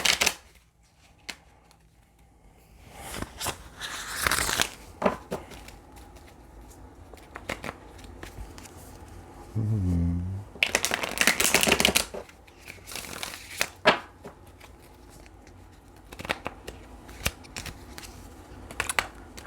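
Tarot cards being shuffled in a series of crisp riffling bursts, with scattered soft taps and clicks between them, close by and without talk.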